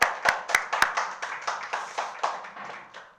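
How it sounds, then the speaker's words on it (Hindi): An audience claps in a loose burst, several sharp hand claps up front followed by a fading patter of individual claps, fairly close and without talk. "हाँ ताली बजा दो"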